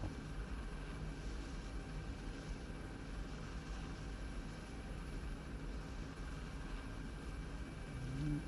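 A UH/MH-60 helicopter flying in a video game gives a continuous steady engine and rotor drone, even and moderately loud throughout, with no talking.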